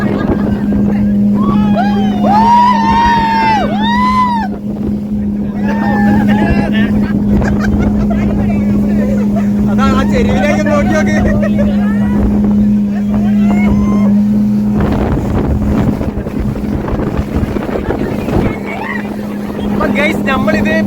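A speedboat roars steadily at sea off Calicut beach, its engine drone constant and close with wind buffeting and water splashing, while excited passengers talk and shout over it throughout.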